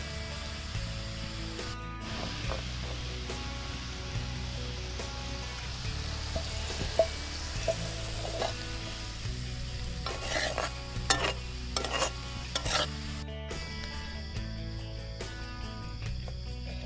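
Mutton frying in a pan over a campfire in a forest at night, stirred steadily with repeated scraping and clinking of a utensil over a continuous close sizzle, with insects faintly audible in the background.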